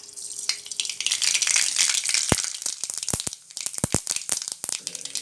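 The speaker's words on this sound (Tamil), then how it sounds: "எண்ணெய் நல்லா சூடாகிடுச்சு இப்போ நம்ம வந்து கடுகு போட்டுக்கலாம்" Dense, steady sizzling crackle of seeds popping in hot oil, with sharp irregular pops scattered throughout, close and fairly loud, no talking.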